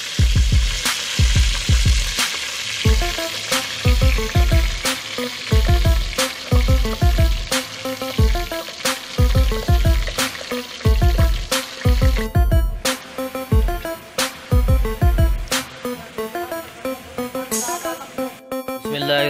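Sliced onions frying in hot ghee in a pan for a band gobi (cabbage) dish, a steady loud sizzle with rhythmic stirring scrapes repeating throughout, close and without talk.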